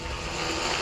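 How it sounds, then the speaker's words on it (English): A helicopter flies over a stadium before a Greyhounds versus Yellow Jackets football game, its engine and rotor giving a steady, loud, broadband drone for a short moment with no talking. "as we continue to watch the helicopter."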